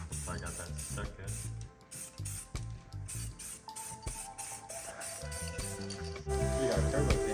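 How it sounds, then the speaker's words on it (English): Gloss black spray paint hisses in short and longer bursts over a masked stripe on a dually pickup's bed, with a person talking throughout. "Ready for our final coat of that gloss black spray paint."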